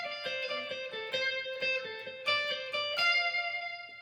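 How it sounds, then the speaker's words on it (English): A guitar runs up and down a regular minor pentatonic scale, single picked notes in an even, moderate rhythm, clear and close with no talking. "regular minor pentatonic would sound like this."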